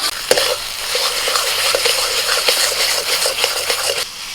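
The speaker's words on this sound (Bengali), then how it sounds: "কুমড়োটা নাড়াচাড়া করতে করতে পুরো এরকম মাখা মাখা হয়ে যাবে" Mashed pumpkin is stirred in a pan with fried onion, garlic and dried chili, a steady close sizzle of frying with repeated scraping strokes of the spoon throughout, no talking.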